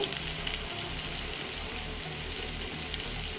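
Chopped tomato and green chili fry in a hot pan, giving a steady, dense sizzle that runs unbroken and fairly loud, with faint low rumble beneath and no voices.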